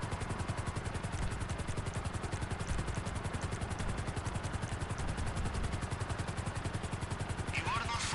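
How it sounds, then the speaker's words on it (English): Helicopter in GTA 5 heard as a steady, loud rotor chop with rapid even thumping and engine drone throughout, a brief different sound near the end. "Land your helicopter in this little pocket."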